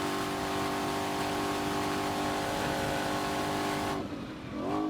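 Ford Mustang GTD, an 815 hp supercar, holds a loud steady engine and exhaust drone close up, then the tone drops sharply near the end as it downshifts and the revs swing back up.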